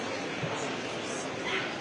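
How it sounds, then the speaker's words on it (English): A puppy at an outdoor Cornish winter fair gives small yips and bow-wows, faint and brief beneath a steady wash of crowd chatter and background noise. "And a little puppy dog."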